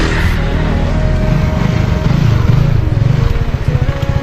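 A motorcycle engine runs loud and close, a rough low rumble with pulsing throttle blips that grow choppier toward the end, no voices heard.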